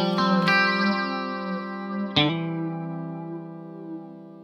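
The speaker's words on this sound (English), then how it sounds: "Yeah, it's a flanger." An instrument runs through a 2290 P dynamic digital delay set up as a flanger with feedback. Sustained, sweeping harmonic tones ring out alone, with sharp note attacks near the start and a fresh strike midway that decays slowly.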